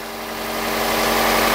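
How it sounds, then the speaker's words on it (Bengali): A used Toyota Premio car idling at a Dhaka car market, heard as a smooth, steady engine hum with a low even drone that grows slightly louder, close by and without any talk. "গাড়ির সাউন্ডটা দেখেন একদম স্মুথ।"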